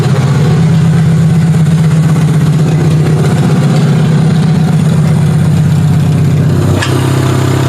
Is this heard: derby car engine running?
yes